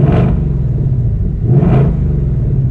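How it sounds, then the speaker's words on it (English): A 2025 Ford Mustang Dark Horse 5.0 V8 in track exhaust mode gets two sharp throttle blips from idle, each a loud rising roar that falls back to a deep rumbling idle, close by with no talking. "I'm gonna go ahead and put it in track exhaust mode. And yeah, let's give it a couple revs here."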